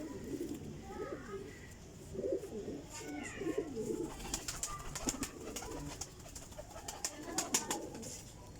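High-class flying pigeons coo in a loft during the rainy season, their throaty calls rising and falling nearby while someone talks, with occasional clicks and rustles.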